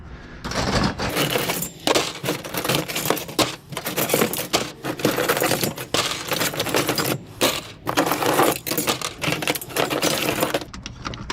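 Metal trampoline springs clatter and jangle continuously as they are loaded as scrap, a dense, busy metallic rattling up close with brief pauses between handfuls.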